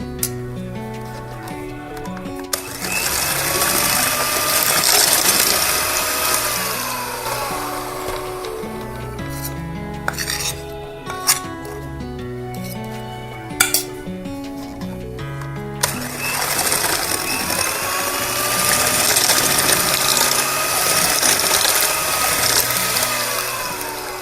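An electric mixer beats eggless chocolate cake batter in two long whirring bursts with a quieter stretch between them, where a few knocks and clatters sound against the bowl.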